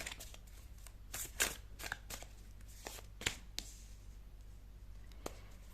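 Tarot cards are drawn one after another from a deck. They make brief, crisp slides and flicks that arrive at irregular moments over a quiet background, close and faint.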